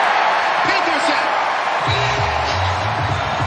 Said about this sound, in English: This crowd loves it.